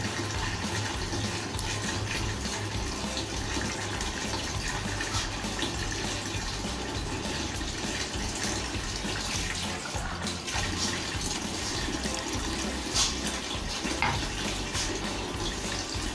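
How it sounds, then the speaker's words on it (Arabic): Water pours from a cup into a pot of orzo pasta with sausage, a steady and fairly faint splashing stream that goes on without a break and has no talk over it. "هضيف الكوباية الرابعة زي ما قلتلكم علشان احس ان هي اتغطت الوش بتاعها بالمية"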